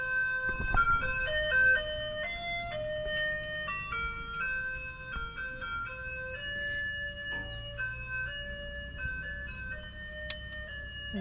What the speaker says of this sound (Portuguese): tá passando o carro do gás exatamente agora